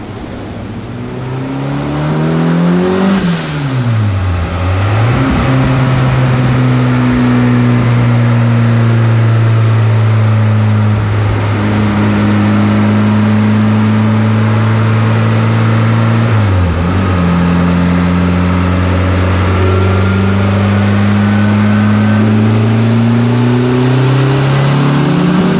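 Turbocharged Mitsubishi GSR engine with boost turned up, strapped to a dyno and revving hard through a long full-throttle pull. The loud, close engine note climbs steadily in pitch, dips at gear changes, then rises again for about 25 seconds.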